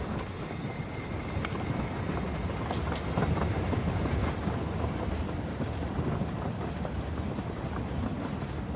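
A train in a video game rumbles past continuously, with a dense low roar and faint rhythmic clacking over the rails, steady and fairly close throughout.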